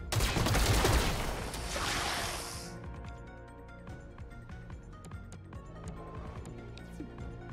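Gunfire from XCOM: Chimera Squad opens with a dense, rapid volley of shots for about two seconds. Fainter clicks and rattles follow under a quiet, tonal game background.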